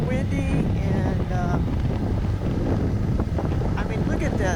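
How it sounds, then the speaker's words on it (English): Strong wind buffets the microphone on a motorcycle ride through windy country heading toward Kanab on a Honda NC700X or CTX700, a continuous loud rushing roar with a voice talking underneath. "Trying to talk so you can hear me over the wind"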